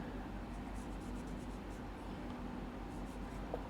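Chalk or marker writes on a board in a classroom with quick scratchy strokes in short bursts, faint against steady room hiss.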